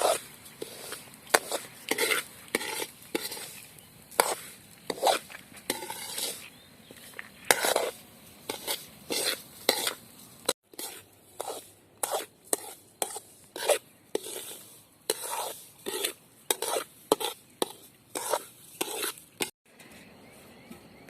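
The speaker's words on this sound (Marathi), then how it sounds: "कमी जाळावरती हा रवा भाजायचा आपल्याला तर दहा ते पंधरा मिनटापर्यंत आम्ही हा रवा आता भाजून घेणार आहोत" Semolina (rava) dry-roasting in a pan over a low flame, stirred with repeated gritty scraping strokes that come in quick uneven bursts with brief pauses, close and fairly quiet.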